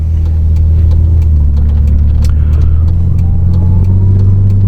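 A 2002 Audi S4 B5 2.7 turbo engine drones steadily with a low rumble and faint higher whine, the pitch creeping upward as it builds boost, heard from inside the car.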